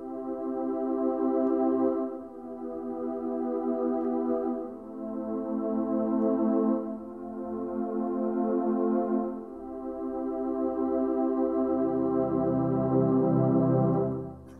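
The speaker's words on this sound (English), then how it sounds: "So warm pad sounds like this." A warm pad synth played on The Glide controller sustains soft, mellow chords that swell and change every few seconds, heard alone and clearly in the foreground.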